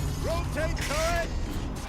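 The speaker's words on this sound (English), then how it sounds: "Rotate turret!" A turret-rotating mechanism in the video game Horizon Zero Dawn gives a short run of creaking, ratcheting mechanical whirs with rising tonal squeals, steady and fairly close over a low background hum.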